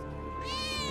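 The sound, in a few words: cat meowing in video game Final Fantasy VII Remake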